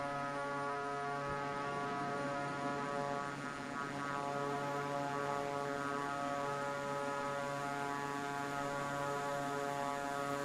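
The Boom Supersonic jet engine in Microsoft Flight Simulator 2024 drones as a steady, loud, even roar with a constant tonal hum, unchanging throughout and with no talk.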